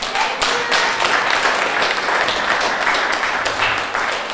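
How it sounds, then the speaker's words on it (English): An audience at a community event applauds for the organizing staff: steady, fairly close clapping from a modest crowd, with individual claps standing out in an uneven rhythm throughout and no voices on top. "Can we get a round of applause for Angela and the rest of the group?"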